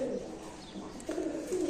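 Lakha pigeons on a farm coo in soft, low repeated phrases, fairly close and steady, with a brief pause midway before the cooing resumes more strongly.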